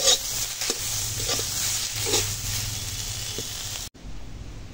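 Fried shrimp heads are added to pumpkin leaves frying in a pan, producing a close, moderate sizzle with a few clinks and stirring scrapes before the sound drops away abruptly.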